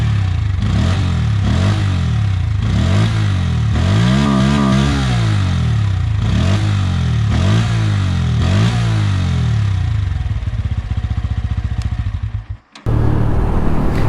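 A Bajaj Pulsar N160 motorcycle engine revs repeatedly in loud, close bursts that rise and fall about every second, then settles into a rough idle, briefly cuts out, and returns.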